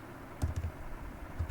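Fingers type code on a computer keyboard in a short run of soft, close keystrokes, a few quick clicks clustered together with a brief pause between.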